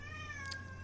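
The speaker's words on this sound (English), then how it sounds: "maybe you can hear the cat in the background." A house cat meows once in the background, a brief drawn-out cry heard over a steady low electrical hum.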